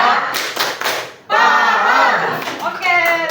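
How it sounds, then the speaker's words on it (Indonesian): A class of students claps hands together in a classroom, a short burst of dense clapping near and loud, with a teacher's voice speaking around it. "Oke, tepuk tangan dong."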